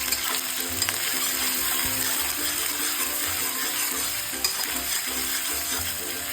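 Onions fry in oil in a pan for a fish curry, with a steady, moderately loud sizzle and crackle running throughout and faint stirring clicks, no talking.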